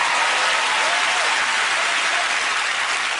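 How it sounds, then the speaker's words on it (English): Steady, loud applause from the studio audience of a British TV chat show, an even wash of clapping that holds without letup and carries no talk. "give him a round of applause."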